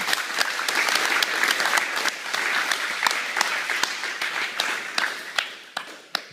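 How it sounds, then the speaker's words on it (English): Jiu-jitsu seminar audience breaks into applause, a dense patter of clapping hands up close that thins out toward the end into a few scattered claps. "Round of applause, guys."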